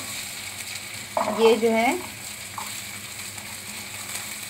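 Onions sauté in a pan with a soft, steady sizzle running low under a brief spoken phrase.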